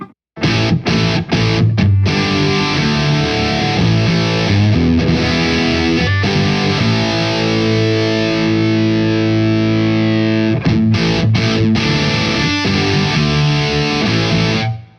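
Electric guitar through a Boss DS-1 distortion pedal fitted with an LED diode mod, played as loud, sustained, heavily distorted chords that ring for long stretches, broken by a few short choked gaps.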